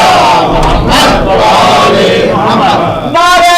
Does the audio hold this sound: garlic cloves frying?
no